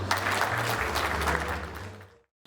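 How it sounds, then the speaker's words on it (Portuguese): A hall audience breaks into steady, moderately loud applause welcoming a speaker at a marketing talk, with low murmuring beneath, before the clapping fades out abruptly near the end. "Vamos receber com uma salva de palmas"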